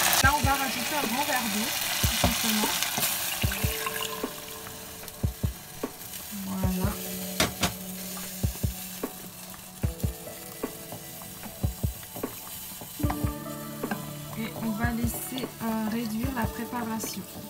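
Ingredients fry in a pan with oyster sauce, a steady close sizzle with occasional stirring clatter and utensil scrapes, while a person talks over it.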